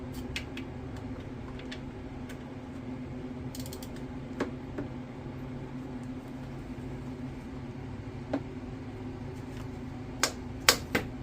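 Steady clicking and creaking as a ratchet on an extended handle turns the alternator bolts on a Honda, with faint mechanical ticks across a low hum and a few louder clicks toward the end.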